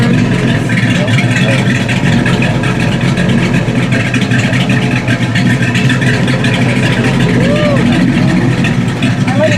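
A 1970 AMC Javelin engine with a performance cam runs steadily and loudly up close, a constant thrumming roar that lasts throughout, with voices faintly beneath it.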